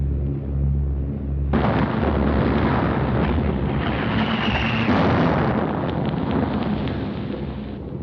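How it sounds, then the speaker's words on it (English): A bomb explodes during the London Blitz of World War 2: a low rumble suddenly gives way to a loud, deep, roaring blast that keeps booming and rumbling for several seconds before slowly easing. "That was a bomb"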